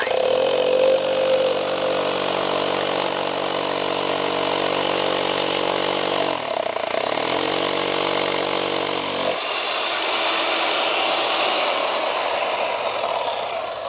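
A loud Shibuya TS-405 core drill runs continuously, its motor droning steadily, then the tone shifts and grinds harder as it bites into material.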